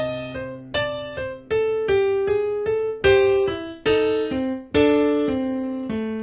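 A blues riff plays slowly and alone, with distinct plucked notes in a steady rhythm, each ringing and decaying before the next, and some notes accented louder than others.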